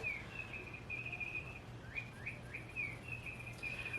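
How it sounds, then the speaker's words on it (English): A chirping cat toy being batted around, giving repeated short bird-like tweets and quick rising chirps at moderate level over a steady low room hum, with no talking. "The bird sound is Freddie playing with a cat toy that chirps."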